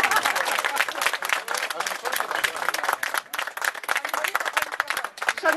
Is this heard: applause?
yes